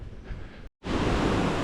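Waterfall in the Monteverde cloud forest reserve in Costa Rica, a steady loud broadband rush of falling water, briefly cut out by a short gap before resuming strongly.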